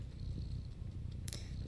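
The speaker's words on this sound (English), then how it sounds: "You are constantly purring." A cat purrs in the video game Stray: a soft, low rumbling purr that stays close and steady for a brief moment, with a faint high click near the end.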